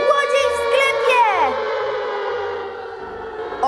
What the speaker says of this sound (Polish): Włączyły się syreny alarmowe.